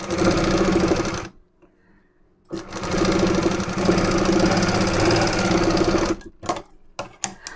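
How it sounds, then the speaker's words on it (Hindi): Sewing machine stitching blouse fabric with a center fold: a steady whirring run of rapid stitches, a short pause, then a longer run ending in a few quick bursts, close and loud. "मैं अब इस प्रकार से मोड़ कर सिलाई चला रहा हूँ।"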